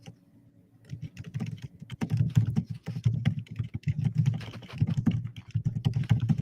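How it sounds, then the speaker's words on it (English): Fast, hard typing on a computer keyboard clatters in dense irregular bursts close to the microphone after a brief quiet start, with no voices over it. "We could still hear him aggressive typing."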